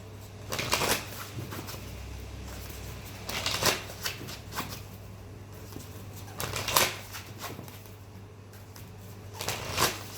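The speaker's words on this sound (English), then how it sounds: "I want to shuffle for your money as well." Oracle cards being shuffled in several riffling bursts, spaced a few seconds apart, over a steady low hum, with no talking.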